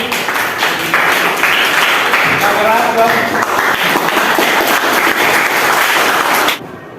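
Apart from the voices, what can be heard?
class applauding group 1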